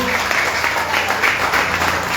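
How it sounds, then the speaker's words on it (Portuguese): A church congregation at a worship service applauds, a steady, dense wash of clapping that holds at an even level throughout, with no clear voices on top. "Se você pode aplaudir ao Senhor Jesus."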